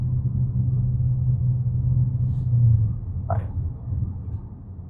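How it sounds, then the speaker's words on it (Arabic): Deepal S07 accelerating in comfort mode: a steady low rumble from inside the cabin that swells briefly, then eases, with one short higher blip near the end and no talking. "نجرب التسارع بتاع الديبال الاس او 7"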